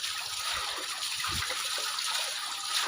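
Roasted palmyra fruit is washed in water, giving a constant close trickle and splash with a few soft knocks beneath it and no voices.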